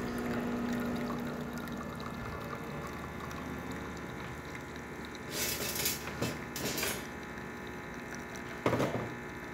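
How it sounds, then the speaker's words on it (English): Rocket Appartamento espresso machine pumps water through its group head, a steady low hum with a faint whine, followed by brief hissing bursts and a short clunk near the end. "We're just making sure water gets to the group head."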